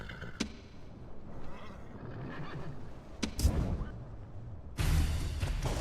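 Horses of Scythian horse archers in the strategy game Rome Total War, Europa Barbarorum campaign, neighing amid a busy battle din, with a loud whinny near the start and whooshing bursts later.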